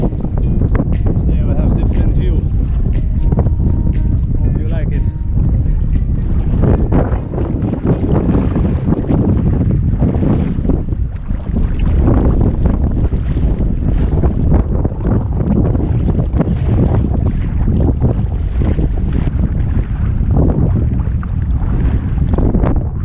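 Kayaking in choppy, rough sea off Capri near Marina Piccola: constant loud wind buffeting the microphone over sloshing, slapping waves, with steady rumbling turbulence and no pauses.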